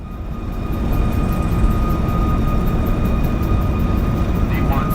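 Boeing 737 MAX jet engines roar steadily during a takeoff roll in the X-Plane 11 flight simulator, a loud constant rumble with a faint high whine and no talk.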